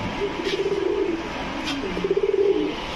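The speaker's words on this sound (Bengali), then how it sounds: "সুন্দর তো কবুতরগুলো ভাই, খুবই অ্যাক্টিভ" Pigeons, highflyer Giribaj and racer birds, cooing nearby in repeated throaty rolling phrases, two main bursts of pulsing coos with a short gap between them over faint background noise.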